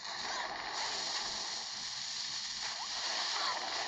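A splash gun fires in the mobile strategy game Boom Beach, a steady watery splashing rush that runs continuously for several seconds behind the game's background sound.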